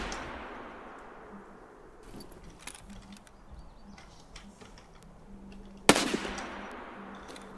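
Scattered 9x19 pistol shots go off faintly in an Escape from Tarkov shooting range, with small clicks and ticks. One sharp, louder crack lands near the end.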